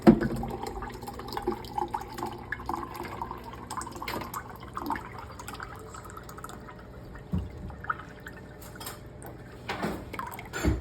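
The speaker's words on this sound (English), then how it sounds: "you can actually hear the filter dripping" Faint, irregular dripping from an AlexaPure water filter shortly after a second filter was installed, soft drops scattered over a steady low background hum.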